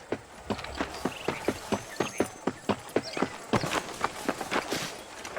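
Horse hooves clip-clop in a steady, even rhythm as the horse is ridden in the Red Dead Redemption video game, with crisp, close strikes repeating about three times per second.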